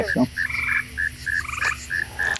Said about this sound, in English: the frogs are out here chirping